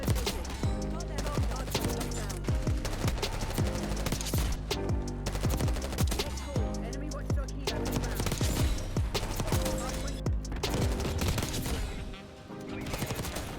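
C9 submachine gun fire in Black Ops 6 rattles in rapid continuous bursts, dense and sharp over game noise and a music bed, with only a brief dip near the end.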